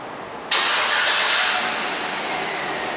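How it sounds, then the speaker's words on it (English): A 2008 Chevrolet Avalanche LTZ starting by remote start: quiet background, then a sudden crank and catch into a loud, steady idle that settles slightly lower, close by and without talk. "And the car turns on."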